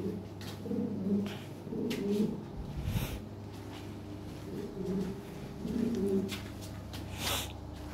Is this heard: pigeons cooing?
yes